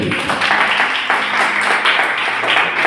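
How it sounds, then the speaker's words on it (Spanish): A church congregation claps for God during a service, a loud, close burst of irregular hand clapping that continues throughout. "Den un aplauso al Rey."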